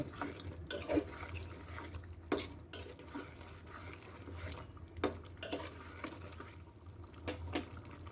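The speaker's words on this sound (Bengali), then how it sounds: "বেরেস্তা দিয়ে আমি আরো ভালোভাবে কষিয়ে নেব তেল ওঠা পর্যন্ত" Beef cooking down in oil with fried onions, stirred with a utensil that scrapes and clanks against the pot in irregular strikes over a steady low sizzle, close by with no voices.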